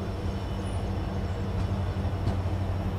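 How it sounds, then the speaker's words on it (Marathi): Dhule–Mumbai express train hauled by a WDP4D diesel locomotive pulling away, a steady low engine drone and rumbling wagons heard from on board, continuous and fairly loud, with no talking. "धुळे छत्रपती शिवाजी महाराज टर्मिनल एक्सप्रेस या ट्रेनचं डिपार्चर झालेलं आहे।"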